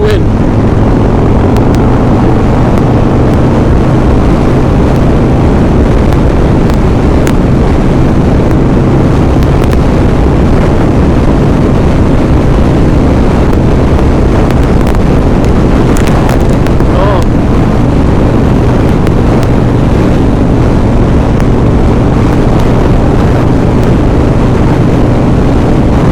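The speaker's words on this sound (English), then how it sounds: "This is so windy." Strong sandstorm wind roars into the microphone as a steady, loud buffeting rumble that never lets up, with brief gusty surges along the way.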